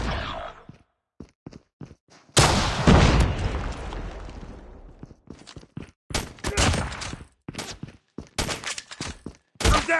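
Gunfire from the Call of Duty Mobile video game, including sniper shots, comes as sharp close pops and a long heavy booming burst, followed by scattered loud shots and impacts.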